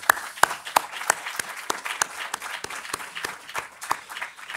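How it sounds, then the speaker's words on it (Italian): Audience applause at a talk or presentation, thin and scattered, with distinct individual claps ringing out at a fairly regular rhythm rather than a dense roar. "Io gli dedicherei almeno un applauso a Norberto."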